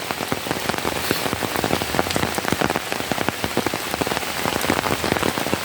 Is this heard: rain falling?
yes